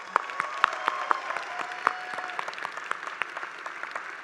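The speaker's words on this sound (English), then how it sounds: "One more round of applause" Applause from an audience at a university graduation ceremony for the College of Urban Planning and Public Affairs, a steady patter of many hands clapping with sharper individual claps standing out, sustained throughout with no talk.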